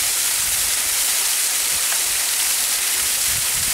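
A small waterfall at a stream crossing on a nature walk, rushing in a constant, dense wash of water that fills the whole stretch without pauses or voices.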